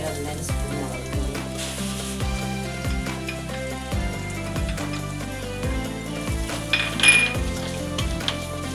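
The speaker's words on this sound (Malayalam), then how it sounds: "നമുക്ക് ഇതെല്ലാം കൂടെ ഒന്ന് പച്ചമണം പോകുന്ന വരെ വാട്ടിയെടുക്കാം" Coriander, chilli and turmeric powders sautéed in a pan for a mango sardine curry, with a steady sizzle under repeated clinks and scrapes of a utensil against the pan, plus a brief louder clatter near the end.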